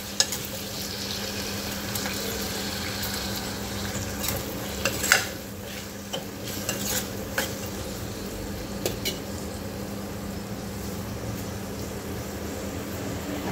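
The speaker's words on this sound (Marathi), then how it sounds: "आता बटाटे पण छान परतून घ्यायचे आहे." Potatoes sautéing in a pan with tomatoes for masala khichdi: a steady, close frying sizzle runs throughout, broken by occasional scrapes and clinks of a spoon against the pan.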